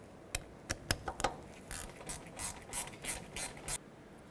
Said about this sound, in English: Tighten up those caliper slider pins